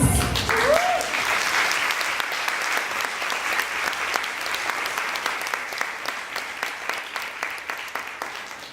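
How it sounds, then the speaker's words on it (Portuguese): A large audience applauds steadily, dense clapping that starts strong and gradually thins toward the end, with a brief voice at the very start. "palmas"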